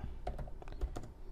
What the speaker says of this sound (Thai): แล้วก็พิมพ์คำสั่งครับติดตั้ง